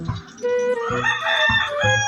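A chicken clucks and calls repeatedly, close and loud, with a rooster-like crowing tone running through the short burst.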